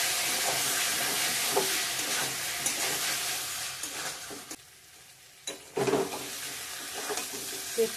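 A chicken and potato curry stir-fries in oil in a pan, with steady sizzling and hissing broken by scraping stirs and a brief quieter pause before the sizzle returns.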